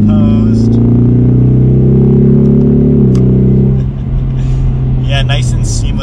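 A 2021 Ford Mustang EcoBoost accelerates close up, its engine tone rising steadily, then dropping sharply at a gear shift and settling lower, while people talk briefly near the end.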